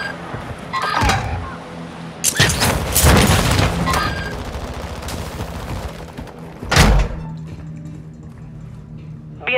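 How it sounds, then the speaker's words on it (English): Heavy booming blasts from a Call of Duty airstrike roll through a battlefield soundscape, with several loud thuds and crackling bursts spread across the scene amid ongoing game noise. "Friendly airstrike in the AO."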